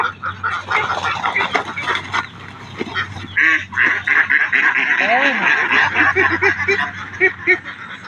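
A flock of domestic ducks on a farm quacks and chatters in a dense, nearby, continuous chorus, with brief rising calls standing out midway.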